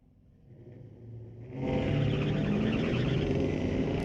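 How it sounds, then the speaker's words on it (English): A 1973 AMC Javelin hot rod sits at a drag strip at Mission Raceway Park, idling with a low rumble before its engine swells sharply into a loud, sustained full-throttle roar. "Another cool old hot rod from the 70s, a 1973 AMC."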